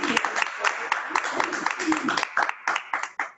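Devotees seated around a religious gathering clap for the chairman, with a busy patter of hands mixed with voices that thins into a few scattered, separate claps at the end.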